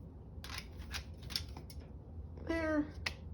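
Scissors cutting paper make a few sharp, close snips at uneven intervals, with a brief voiced sound in between.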